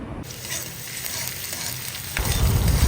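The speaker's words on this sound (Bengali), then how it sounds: "এখানে আমি পেঁয়াজ ভেজে নিচ্ছি" Onions fry in a pan with a dense, close sizzle that runs continuously and grows louder and fuller near the end.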